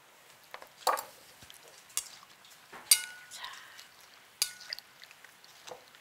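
Cabbage water kimchi being tossed and mixed with halved cherry tomatoes in a bowl, giving soft wet stirring and squelching with a few sharper clinks of utensil against the dish.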